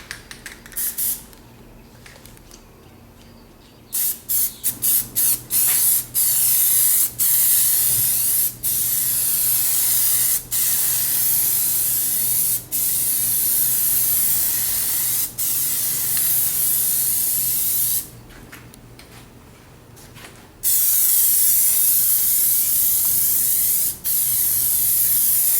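An aerosol can sprays a light first coat of Plasti Dip onto motorcycle parts, loud continuous hissing bursts several seconds long, broken by short pauses and brief taps.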